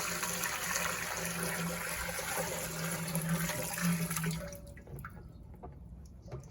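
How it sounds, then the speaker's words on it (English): Six gallons of spring water poured for a home beer brew, a steady loud splashing gush that runs for several seconds and then cuts off into quieter drips. "we want to add 6 gallons of water"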